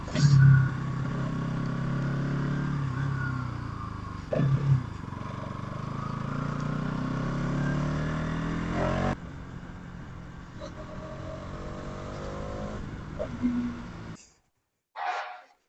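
A vehicle passes close beside a motorcyclist on a commute to work, its engine revving loudly under the steady rumble of the rider's own motorcycle, with wind noise throughout.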